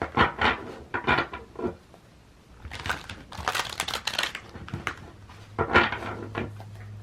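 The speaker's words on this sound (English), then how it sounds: "we're going to shuffle your cards" Crisp riffling and flapping bursts of tarot cards being shuffled in several quick rounds, close up, with brief pauses between.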